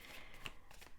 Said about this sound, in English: I don't shuffle as agilely and as quickly as young girls do.